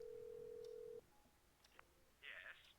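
Telephone dialing in the point-and-click horror game Scratches: a steady electronic tone holds for about a second, then stops, and a brief, higher dial beep follows near the end, all fairly quiet.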